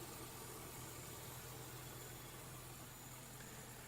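A Toyota engine idles for the first time in six years, a steady, even rumble with a low mechanical hum that holds unbroken at moderate level throughout, with no voices over it.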